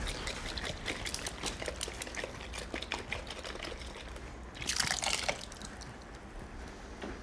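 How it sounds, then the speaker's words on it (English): Water pours and splashes into a nearly empty persimmon container in a kitchen, a close, continuous trickle with scattered drips and a brief louder gush partway through. "fill it with a little water so you can get the rest of that out"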